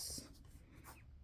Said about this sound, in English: so I always just sketch in these boxes